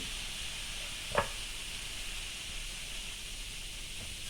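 Shredded fish strips deep-frying in oil, a steady, even hiss of sizzling with one brief clink partway through and no talk.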